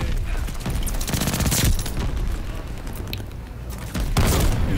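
Rapid machine pistol fire in the Call of Duty Vanguard shooter, loud, dense bursts with booming impacts layered over continuous battle noise, swelling again near the end.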